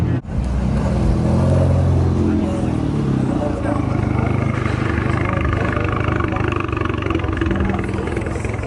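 Cars rolling into a nighttime car meet, a continuous loud blend of idling and revving engines close by, with people talking over the vehicle rumble throughout.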